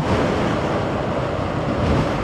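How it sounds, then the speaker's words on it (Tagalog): Strong pre-dawn wind at Montemaria Shrine, Batangas, roars and buffets steadily against the microphone, a loud continuous rush with no voices. "Lakas pa ng hangin"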